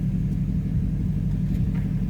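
A 2013 Ford Mustang Boss 302 idles with a steady, deep low rumble from its V8, close and continuous, with no voices over it.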